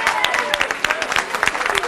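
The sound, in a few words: audience applauding themselves as the jury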